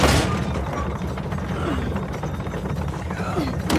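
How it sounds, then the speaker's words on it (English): A crank mechanism turns in the video game Uncharted: The Lost Legacy, giving a dense grinding, rumbling churn of stone and gears with scattered clanks and ratcheting clicks, steady and fairly loud throughout. "I guess we turn this crank and see what happens next."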